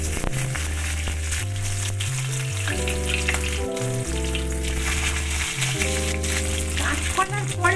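Previously fried raw plantain dropped into hot oil left from frying fish, giving a steady, crackling sizzle beneath a bed of background music.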